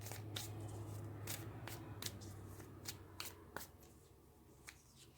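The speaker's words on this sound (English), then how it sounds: "let's go ahead and take a few cards for your person" Tarot cards drawn and shuffled by hand, a series of crisp, quick flicking snaps and papery slides spaced irregularly, close but soft in a quiet room.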